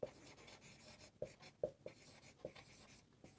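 Pen scratching on paper during a chemistry lesson on unit cell packing efficiency, a handful of short close strokes with brief pauses between them, quiet and without any talk.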